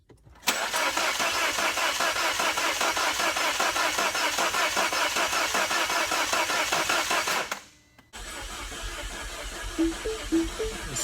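A 2010 Mini Cooper engine cranks on and on without catching, a loud rhythmic churning starter sound for several seconds, then a short break and a quieter resumed whirring with faint clicks, no talking.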